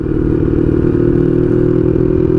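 Honda Magna 750 with straight pipes, its engine heard close and loud as a steady, rough drone with a throbbing low rumble that holds at a constant level and does not rise or fall.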